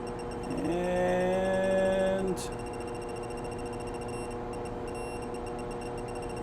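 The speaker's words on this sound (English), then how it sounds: "When you hear that long beep and you see the red, that means that we are at torque" A RALVICO 1/2-inch digital torque wrench gives a single long, steady electronic beep lasting about two seconds on reaching target torque, followed by quiet room noise.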